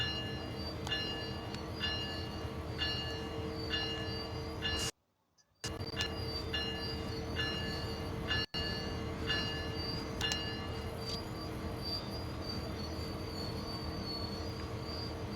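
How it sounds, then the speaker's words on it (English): A simulated freight train on the CN Ontario line in Train Sim World 6 brakes toward a stop, with steady rumbling and high, repeated wheel squeal, a brief dropout partway through, and no talking. "Actually, let's just wait for the whole train to stop."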